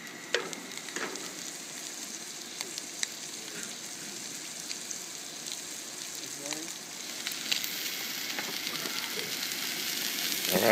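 Butter heating and sizzling in a frying pan during outdoor cooking, a steady close hiss and crackle with scattered pops throughout, growing slightly louder toward the end, with no voices.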